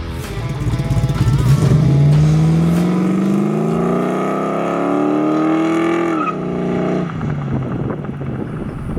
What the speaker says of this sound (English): So today we're driving the Reloaded Camaro.